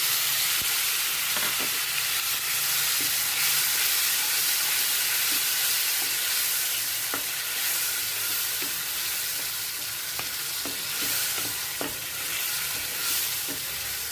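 Tomatoes sizzle and fry steadily in hot oil with fresh coriander in a cabbage dish, a continuous loud hiss with occasional stirring clinks and no talking.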